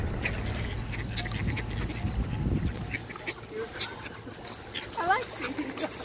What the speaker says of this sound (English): Won't be a trip anywhere without feeding ducks, would it?